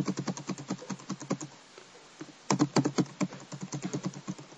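Rapid typing on a computer keyboard while filling in a Microsoft Office table: a steady run of close, crisp key clicks, a brief pause, then another brisk burst of keystrokes, with no voices.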